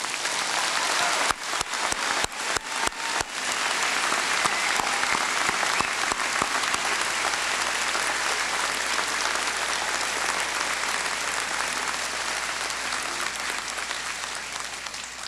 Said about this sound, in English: Let's give this entire graduating class one more round of applause.